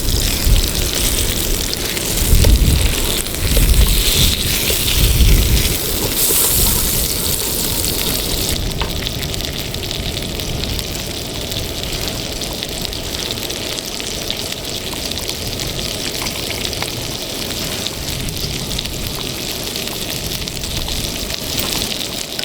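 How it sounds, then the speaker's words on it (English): Strong storm wind by a lake in Norway, close to a Trangia Storm camp stove where dinner is being cooked, gives a loud, steady broadband roar that surges in gusts for over twenty seconds, with no talking. "the wind is starting to get so strong"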